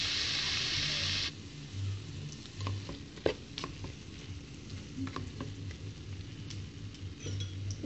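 Spaghetti with mixed vegetables and chicken sizzles in a pan as it is stirred, a loud hiss at first that drops to a softer frying crackle with scattered scraping and clinks of the utensil.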